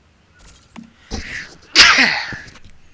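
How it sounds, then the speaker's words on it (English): A person sneezes loudly up close after a couple of small sharp breaths, with a brief gasp before the main burst. "Sorry, I had to sneeze."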